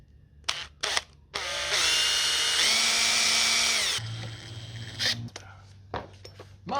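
Power drill boring a hole during a Toyota HiAce van storage build, a loud whining run of about two and a half seconds that drops in pitch near the end, framed by short clatters and people talking before and after.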